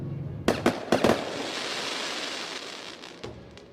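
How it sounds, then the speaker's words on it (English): Fireworks go off in a quick series of sharp booms around the half-second and one-second marks, then a long sizzling crackle follows and fades, with one more pop near the end. "Fireworks explode, releasing hot gas and energy causing a thunderous bang."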